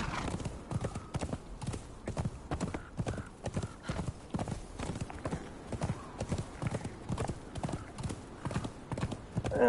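Horse hooves clip-clop in a quick, steady galloping rhythm while riding in the survival game Conan Exiles on the Isle of Siptah, a continuous run of close, moderately loud beats with no speech.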